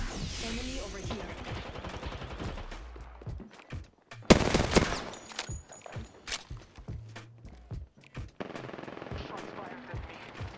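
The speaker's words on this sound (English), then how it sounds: "Shots fired at me." Rapid automatic gunfire fills a video game firefight, with dense bursts of shots, one very loud close burst in the middle, and quieter scattered shots afterward, mixed with game voices and effects.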